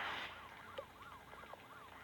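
In the Smashy Road mobile game, a police car siren wails in quick repeating up-and-down sweeps, faint and steady after a brief louder burst at the start, with no voices.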